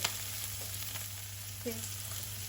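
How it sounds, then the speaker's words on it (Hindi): Onion and tomato frying in a pan over a medium flame, a soft, steady sizzle with a few faint stirring clicks, quiet and close with no talking. "टमाटर और प्याज भी अच्छे से भून गए हैं।"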